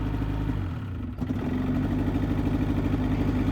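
A snowmobile engine with a faulty idle runs close and loud, its steady drone sagging in a brief stumble as it is shifted into reverse, then recovering to a rough, pulsing idle, with no talk.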